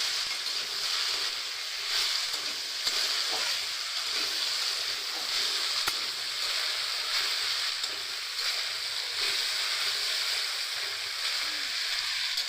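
Potatoes frying in a pan for a vegetarian snake gourd dish, giving a steady, even sizzle that holds throughout with no talk over it.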